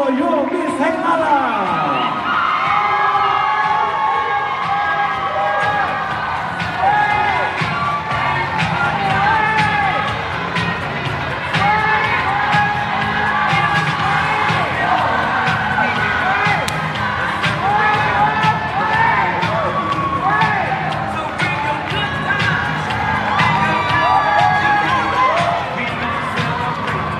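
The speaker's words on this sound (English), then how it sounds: "Ladies and gentlemen, round of applause for your Miss HEILALA!" A large audience at the Miss Heilala pageant grand ball finale claps and cheers loudly and continuously for the newly crowned winner, with whoops and shouting voices throughout.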